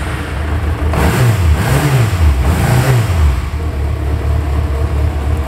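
A 2000 Yamaha XJ6 N motorcycle engine runs and is revved twice in swelling bursts that fall back to a steady idle, loud and close, with no talking.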